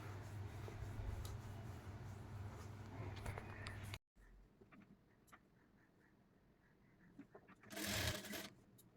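A sewing machine stitches the shoulder seam of a 38-size double katori blouse, running in a steady continuous whir, then a pause with faint handling clicks, and a brief louder burst of stitching near the end.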